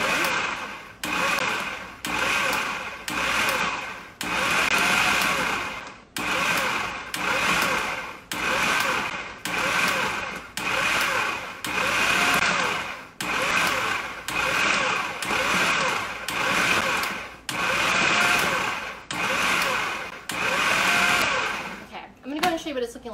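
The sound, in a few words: food processor pulsing butter, shortening and flour for pie crust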